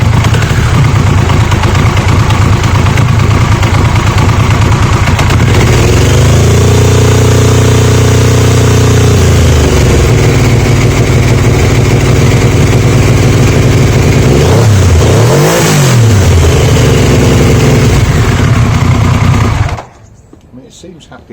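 A Triumph Sprint 900 motorcycle engine idles cold without choke, a loud, steady close-up putter with a brief rise in revs midway before it cuts off near the end.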